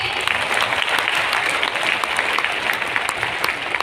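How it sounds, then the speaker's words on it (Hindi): Audience at a Right Concept Marketing calibration program applauding a guest addressed as PC sir, a loud, continuous wash of many hands clapping evenly throughout. "एक बार जोरदार तालियां पीसी सर जी के लिए"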